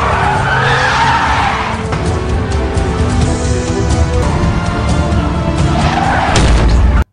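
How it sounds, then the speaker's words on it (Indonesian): A car in an Indian film scene swerves sharply and slides, giving a loud, sustained tyre screech and roaring noise that lasts several seconds and swells again near the end before cutting off abruptly. "ia membanting setir dan membuat mobilnya tergelincir"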